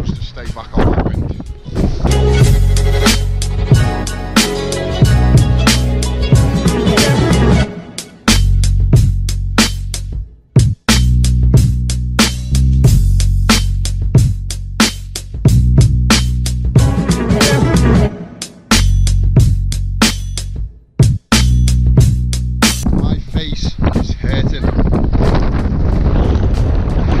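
Strong wind buffets the microphone on the Great Ridge near Mam Tor in the Peak District, a loud continuous roar with gusty surges and brief lulls throughout.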